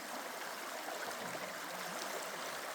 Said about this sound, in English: It's flowing pretty hard over here.